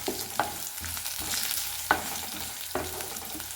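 Ingredients stir-frying in hot oil for palak rice crackle and sizzle steadily at close range, with spoon scrapes against the pan landing at a slow, regular pace.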